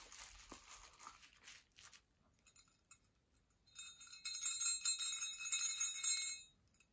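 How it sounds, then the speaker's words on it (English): A Krampus prop bell from a horror box rings in a bright cluster of high metallic jingles after some crinkling of packaging, close and moderately loud, lasting a few seconds before stopping. "That is the bell from Krampus."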